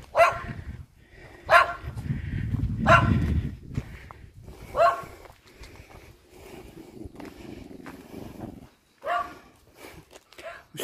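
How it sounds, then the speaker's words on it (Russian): Dogs barking repeatedly outdoors near a rural garden, several sharp barks spaced irregularly with someone talking over and between them. "И вот собаки везде лают, лают."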